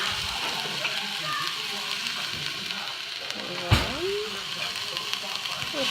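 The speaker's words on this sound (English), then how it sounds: "spray a little bit of olive oil and go ahead and add red pepper, an onion" Red pepper and onion sautéing in a light spray of olive oil over medium heat, a steady close sizzle and crackle running throughout with a brief clatter partway through.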